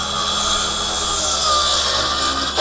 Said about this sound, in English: Now I'm going to put my saw in.